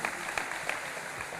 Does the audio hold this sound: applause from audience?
yes